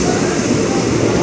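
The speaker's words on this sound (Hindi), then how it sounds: "छुक छुक रेलगाड़ी।" A passing train at a railway station gives a steady, loud rolling rumble and rattle throughout, with no clear talk over it.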